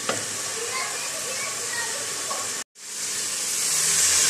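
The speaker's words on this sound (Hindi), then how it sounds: "अब तेल डाल के इसको भून रही हूँ अच्छे तरीके से।" Meat frying in oil inside a pressure cooker gives a loud, steady, close-up sizzle and hiss that cuts off for a moment, then returns and builds again.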